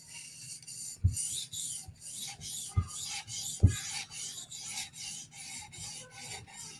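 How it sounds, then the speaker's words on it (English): A knife blade drawn over a 400 grit sharpening stone with light strokes, about a dozen rhythmic rasping swipes at close range, a few with sharper knocks as the blade meets the stone, no talking. "We're going to do one more pass at 400 grit. This time we're going to do a little bit lighter strokes,"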